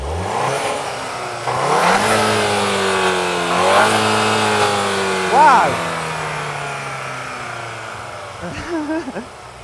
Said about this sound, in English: Now let's have a little listen to this engine. So go on, start it up. Give it some revs.